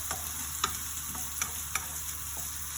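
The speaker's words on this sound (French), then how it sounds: "On remue." Mozzarella meatballs simmer in tomato sauce in a wok under a quiet, even sizzle, as a spoon stirs with a few light, spaced scrapes and taps and no one speaks.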